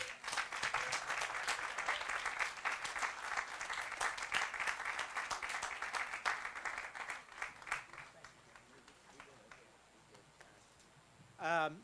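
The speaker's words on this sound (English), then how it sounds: "he deserves a big round of applause" Audience applause at the grand opening of the Cortex MetroLink station, a dense steady clapping from a crowd for about eight seconds that then thins and fades, with a voice briefly heard at the end.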